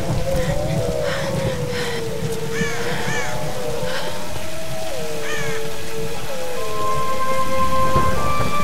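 Steady heavy rain and rumbling thunder in the Tomb Raider Definitive Edition video game storm, loud and continuous throughout, with tonal calls and music-like tones drifting over it.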